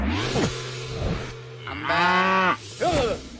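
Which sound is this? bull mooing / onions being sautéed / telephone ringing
bull mooing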